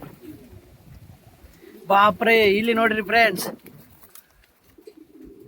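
Pigeons coo softly in a loft during a deworming session, while someone speaks loudly and excitedly over them in the middle of the clip.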